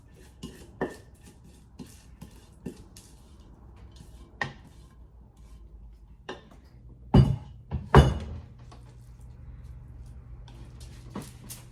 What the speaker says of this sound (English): We're just going to dump it out onto this prepared baking sheet.